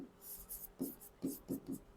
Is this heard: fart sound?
no